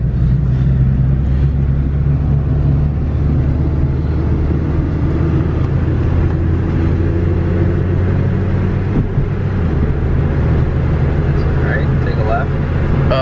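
A $500 flip car rides along at dusk, steady low engine and road rumble running continuously and fairly loud from inside the cabin, with no one talking.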